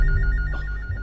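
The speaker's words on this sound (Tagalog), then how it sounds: "Ang telepono din sa office." An office telephone rings in a repeating electronic trill over a low, loud background rumble, alone with no voices.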